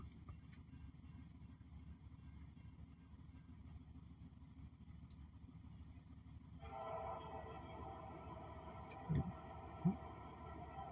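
A single locomotive sounds its train horn in a long, steady blast that enters partway through, loud over a constant rumble of rail noise, with a couple of brief sharp bumps near the end.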